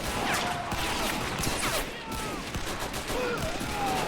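Dense, continuous machine-gun fire from a Lewis gun in an Army Men plastic-soldier WW1 trench defence battle mod, a rough crackling wash of rapid shots with faint whistling tones drifting through it.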